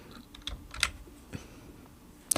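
Keystrokes on a computer keyboard during accounting-software data entry: a few soft, separate clicks spread irregularly over a couple of seconds, quiet against a faint background.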